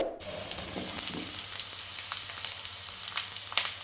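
Taro and spices fry in hot oil, giving a steady, close sizzle with light crackles and occasional stirring clicks over a faint background hum.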